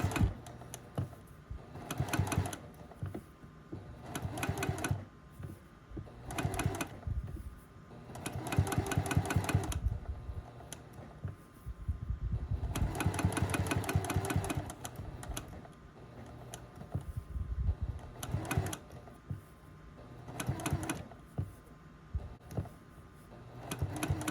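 A sewing machine straight stitching around the edge of an appliqué flower quilt block, running in repeated loud bursts of rapid needle clatter separated by short pauses, close and alone.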